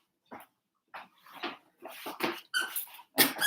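A pet dog gives a run of short, sharp barks and squeaky yelps indoors, about eight bursts in an irregular rhythm, close and fairly loud with silence between them.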